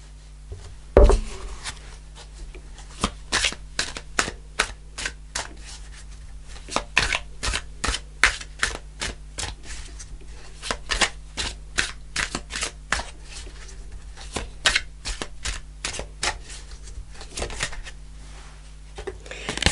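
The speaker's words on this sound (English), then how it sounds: "Okay, another card turned over." Tarot cards handled, shuffled and turned over, a dense rapid patter of crisp flicks and slaps, close up, with a low steady hum behind and no talking.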